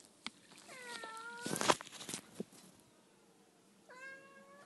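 A few cats meow in separate bursts, with a pair of calls early and another later, set against quiet room noise and some brief rustling.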